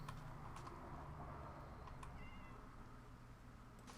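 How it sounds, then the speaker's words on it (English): Several Minecraft cats spawned in a desert meow faintly and intermittently, small scattered cries over a low steady background hum. "Cats are meowing."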